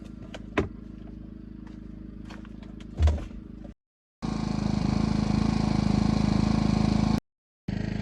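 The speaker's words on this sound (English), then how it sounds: "I got my generator on" A portable generator, the same one once plugged in beside a bed in a trailer, runs in Alaska with a steady, even engine drone that cuts off briefly twice, preceded by a few clunks and knocks.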